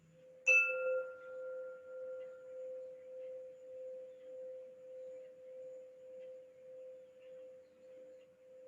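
Meditation tones: a soft chime strikes once near the start, then a single steady sine-like tone sustains with a slow, gentle pulsing swell, quiet and alone.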